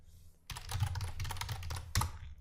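Typing on a computer keyboard while writing JavaScript code, a quick run of close key clicks starting after a brief quiet moment, with a louder keystroke near the end.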